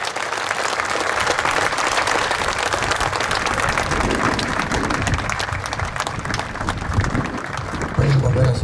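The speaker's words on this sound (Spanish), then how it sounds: "Aplauso para nuestro Señor Jesucristo" A church congregation applauds for the full stretch, dense and steady clapping filling the room, while a voice rises briefly over it near the end.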